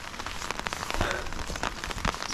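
Rain drums steadily on an ultralight tarp shelter during a wild camp in the Northumberland hills, a dense, close patter of many drops that runs without a break.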